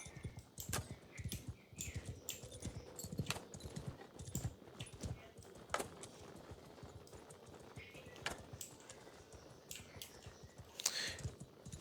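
Horse hooves thud and clatter in the Mount and Blade video game, a dense, irregular clip-clop of many mounted units charging at mid distance with battle noise underneath.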